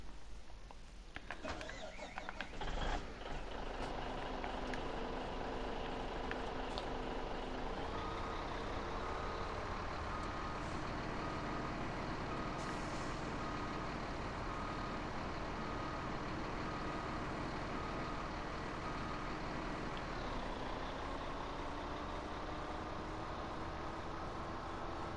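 A truck reverses on a farm with steady repeated reversing beeps over a constant engine drone, and a brief clatter at the start.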